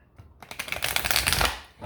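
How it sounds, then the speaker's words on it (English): Tarot cards are riffle-shuffled by hand into a dense burst of rapid papery clicks that swells and then settles, close and moderately loud, with no talking during it. "Let's shuffle this one more time"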